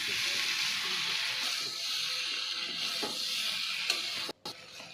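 Jackfruit and prawns fry in spice paste, a steady close sizzle with faint stirring scrapes, then a brief cutoff and a quieter hiss just before the end.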